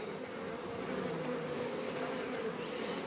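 Bees buzz inside a newly opened hive of new bees, a dense continuous drone with overlapping wingbeat hums, close and steady for the whole stretch, with no talking.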